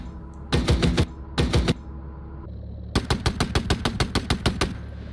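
A .50 cal machine gun fires in a tank simulator game: two short bursts, a brief pause, then a longer run of about a dozen evenly spaced, loud, close shots.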